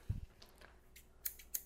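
Scissors snipping through paper while folding a Pikachu origami, a few quiet crisp cuts at close range with short pauses between them in a silent room.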